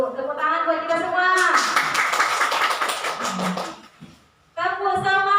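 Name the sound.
applause, audience clapping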